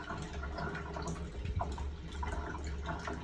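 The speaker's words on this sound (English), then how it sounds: "So you'll see all the water go down." Dirty wash water drains steadily out of a Costway portable washing machine, a continuous rushing, gurgling flow that stays fairly even and close throughout, with no talking.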